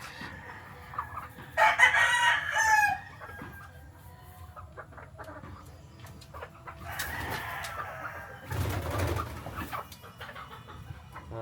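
A rooster among blue-gray fowl crows loudly, then crows again further off, with clucking and bird calls around it and quiet low background noise between the calls.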